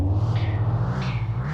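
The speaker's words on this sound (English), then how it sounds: "So that's that engine just bouncing around back there." A loose engine thumps and rattles around in the back of a speeding car in the game Mon Bazou, heard as a steady low rumbling throb with faint higher clatter, close and loud with no voice over it.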